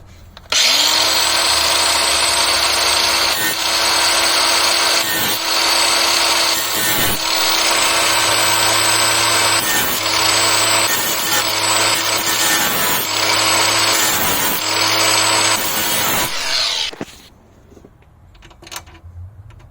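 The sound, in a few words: angle grinder cutting stripped screw heads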